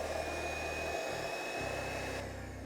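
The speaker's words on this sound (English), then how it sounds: "We're gonna start whisking it." Egg whites being whisked for meringue, giving a steady, continuous whirring that holds level throughout with no voices.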